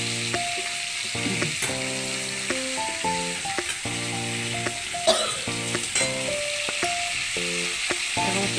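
Potatoes and papaya frying in a pan with a chili tempering, a steady close sizzle with occasional stirring clatter and no talking.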